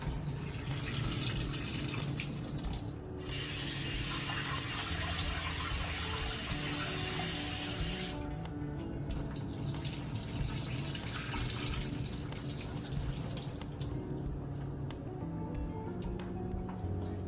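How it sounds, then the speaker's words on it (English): Steady running water from a tap pours continuously, with splashing and sloshing as soaked almonds are rinsed in a sink; no voices. "We take our soaked almonds and we rinse them."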